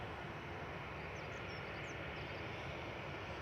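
A Cathay Pacific airliner approaching to land at Manchester Airport gives a faint, steady distant engine roar, a smooth broadband rumble with no voices over it.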